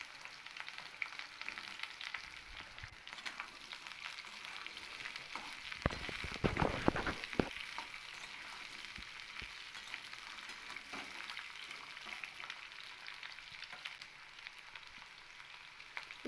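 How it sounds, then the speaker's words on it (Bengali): Pieces of drumstick (moringa) fry in oil while being stirred, a steady close sizzle with a louder burst of scraping stirs in the middle, no voices. "ডাঁটাগুলো দিয়ে আমি তেলের সঙ্গে কিন্তু একটু নাড়াচাড়া করে নেব।"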